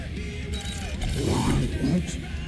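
A door mechanism opens in the Guardians of the Galaxy video game, a close mechanical whirring and clanking of gears and latches that swells in the middle over a dense, steady background rumble.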